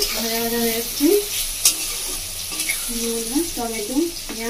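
Chopped onion, tomato and capsicum sizzle in a pan for Bengali chicken kosha, with a constant frying hiss broken by repeated squeaky, scraping stirring strokes close by. No speech.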